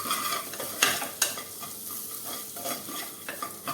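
Cashews and potato pieces for sabudana khichdi are stirred in a pan, with light sizzling and a few sharp scrapes and clinks of the spoon against the metal.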